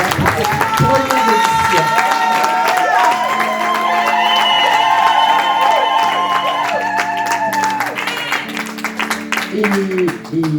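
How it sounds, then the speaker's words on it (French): At a church gathering, the congregation claps and cheers to thank a pastor, with music and voices mixing loudly over the crowd throughout. "Gros applaudissements"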